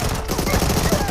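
Dense, loud automatic gunfire in PUBG Mobile (Peacekeeper Elite) rattles continuously for about a second, forming a packed stream of close shots.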